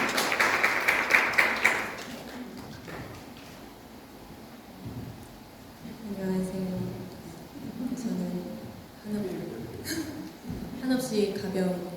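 A church congregation at Sunday worship breaks into a short burst of brisk clapping that dies away after about two seconds, followed by a person speaking at a microphone in the quieter room.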